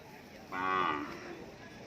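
A water buffalo lows once at a livestock market, a single drawn-out moo of about a second, moderately close, over a quiet background.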